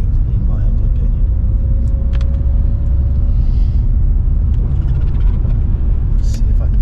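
Porsche 944 S2 engine pulling steadily while driving on the road, a loud continuous low rumble under road and cabin noise, with a person talking over it.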